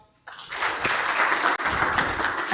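Dense audience clapping at a Sacco Summit fills the room, loud and steady throughout with a brief dip midway, many hands blending into a continuous roar.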